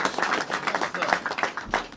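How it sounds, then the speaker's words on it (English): An audience claps at an emotional thank-you address at a school, the claps coming as a scattered, uneven patter of sharp slaps that stays moderately loud throughout. "You don't gotta clap."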